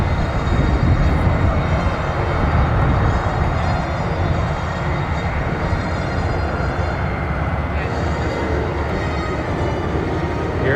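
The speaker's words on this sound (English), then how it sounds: "Touching down, just over the numbers is Scott Yote in the Corsair" An F4U-4 Corsair warbird touching down at an airshow produces a loud, continuous rumbling engine drone with a steady broad roar throughout.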